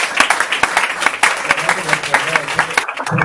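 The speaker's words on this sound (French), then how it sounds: "nous acclamons encore pour elle" Audience at a church gathering applauding a speaker, steady dense clapping filling the whole moment with a few scattered voices mixed in.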